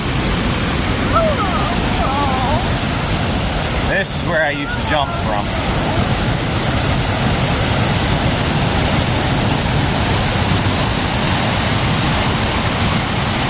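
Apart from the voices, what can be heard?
waterfall rushing with high water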